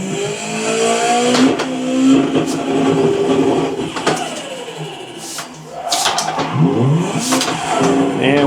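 A racing simulator game car revving and spinning out, loud engine roar rising and falling with sweeping pitch changes, brief dips as the throttle lifts, then revving hard again.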